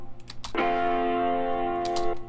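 Sampled guitar chord processed through an effects rack, ringing as a sustained, shimmering tone with bell-like overtones that swells in after a brief lead-in and holds steadily for about two seconds, with no voices.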